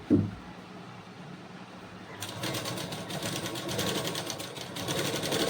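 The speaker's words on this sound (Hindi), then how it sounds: "अब इस पे हमें थोड़ा डबल सिलाई चला देना है इस तरह से" After a soft knock and a couple of quiet seconds, a sewing machine starts up and runs steadily, laying a double line of stitching along piping cloth at moderate volume.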